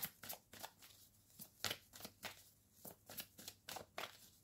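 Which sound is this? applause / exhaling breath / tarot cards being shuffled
tarot cards being shuffled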